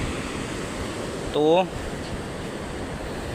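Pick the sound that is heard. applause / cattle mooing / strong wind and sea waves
strong wind and sea waves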